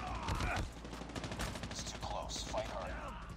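A slug-loaded shotgun build fires in Call of Duty Mobile, quick punchy gunshots in a rapid burst with game effects, while a voice talks over the shooting.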